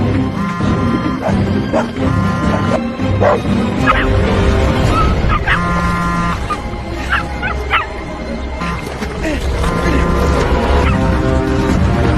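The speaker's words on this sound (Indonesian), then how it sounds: "Lucky kembali menggonggong yang saking semangatnya, si anjing itu sampai terjatuh" A dog barks and yips repeatedly in excited bursts, some whimpering between, mixed with a busy background of other sounds.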